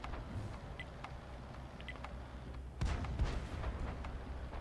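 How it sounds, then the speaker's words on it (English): Tank cannon fire in a tank battle video game, fairly faint and distant: scattered shots over a low background rumble, with a heavier boom about midway followed by a few more reports. "Plymouth is getting shot by the Type."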